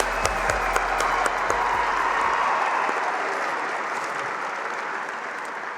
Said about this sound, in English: How about one more round of applause for the outstanding job by the Color Guard flag bearers